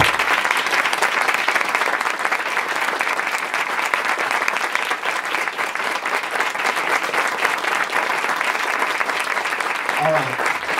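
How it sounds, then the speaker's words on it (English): A large audience claps steadily and loudly for about ten seconds, a dense unbroken wash of applause. "place that part on the sound of the clapping as you clap until I say stop."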